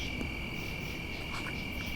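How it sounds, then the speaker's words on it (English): A constant high, shrill trilling of crickets and grasshoppers at night fills the background, steady and unbroken, with a few fainter chirps layered over a low outdoor hum. "It's got quite a lively soundscape here amongst the crickets, grasshoppers"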